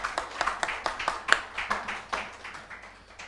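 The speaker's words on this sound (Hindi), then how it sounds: "हम तालियां बजाएं उनके लिए।" A church congregation claps during a Hindi sermon, a series of distinct hand claps in an uneven rhythm, fairly close, gradually softening and spreading out, with no talk over them.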